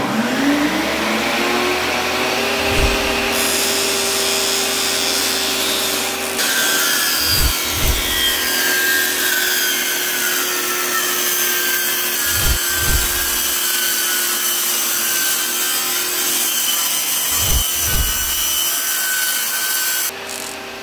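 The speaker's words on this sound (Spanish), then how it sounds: "Y también suena bastante duro al cortar aluminio." An aluminium sheet is cut for fitting onto a door, giving a loud, sustained, harsh grinding and rasping, with a steady tonal whine throughout and periodic low thumps recurring every few seconds.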